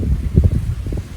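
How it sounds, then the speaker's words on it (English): Gusty wind sweeps through an outdoor garden near bonsai trees, a low rumbling buffet pressing on the microphone in uneven bursts, close and fairly loud, with no voices. "Today is a very windy day"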